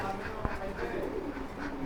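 Big jet-black tailless pigeons at a pigeon farm coo softly and close by, a low murmuring coo beneath a human voice that talks over them.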